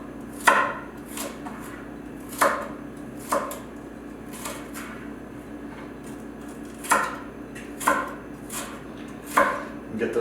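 A knife chops leeks on a wooden board with crisp, evenly spaced thuds, roughly a dozen distinct strikes in small clusters, close and clear with no talking.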